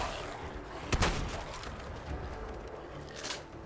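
A shotgun fires in Fallout 4 with one sharp, booming blast near the start, a later fainter shot, and steady game ambience underneath.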